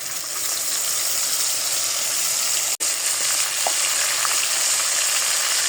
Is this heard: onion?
yes